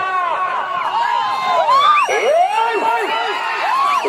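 Spectators at a village bullock cart pulling competition raise a loud, dense mass of shouting, whooping and yelling voices that rises and falls continuously throughout.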